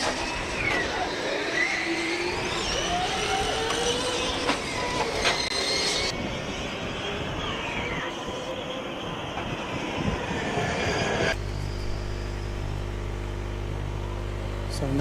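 Formula Student combustion and electric race cars roar past during the endurance event, their engines rising and fading as they go by one after another and blending into a harsh, steady track noise that cuts off into a low drone near the end.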